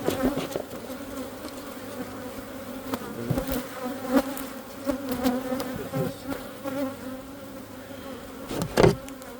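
Agitated honeybees stirred up inside an open hive being treated for small hive beetles, a dense steady buzzing drone close to the microphone with individual bees flaring louder as they fly past.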